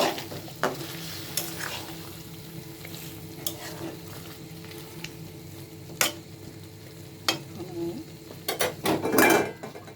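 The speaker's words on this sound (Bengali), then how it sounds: "এই পর্যায়ে আমি মাংসটা দিলাম মাংসটাও আমি কষিয়ে তারপর জল দিলাম" Chicken pieces with taro being stir-fried in a pan, a steady sizzle broken by sharp scrapes and clanks of a utensil against the metal, with a louder burst of stirring near the end.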